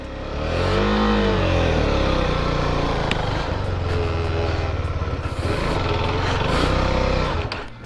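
A Husqvarna Svartpilen 401 motorcycle engine revs loudly and unevenly, its pitch sweeping up and down, then sputters and stalls near the end.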